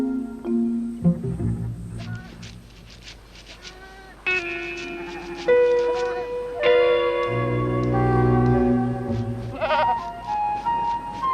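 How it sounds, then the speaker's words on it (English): Goats bleat repeatedly at close range on an African farm, several wavering cries overlapping one another with short pauses between calls. "A flock of goats belonging to an African tenant farmer"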